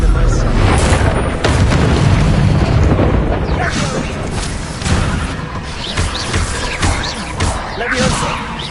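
Spell blasts from Bombarda and Confringo detonate in Hogwarts Legacy, a dense run of loud booming explosions and crashes repeating every second or so, layered over constant game effects with a voice calling out spell names in between.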